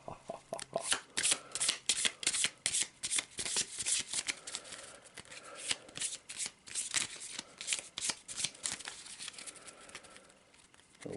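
Cards being shuffled and handled during a Shadows of Brimstone board game session, a long run of quick papery riffles and crinkly flicks, close and fairly soft.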